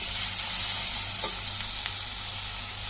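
Ginger garlic paste frying on low heat, a steady soft sizzle with a few light scrapes as it is stirred in the pan, fairly close and with no voices.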